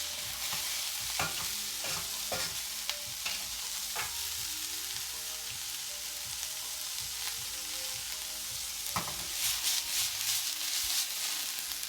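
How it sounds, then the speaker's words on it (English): Fried rice stir-fried in a carbon steel pan over high heat, a steady sizzle running throughout with repeated scraping and tossing strokes of the spatula against the metal, close and continuous. "Check out how nice this carbon steel pan is working, Joe."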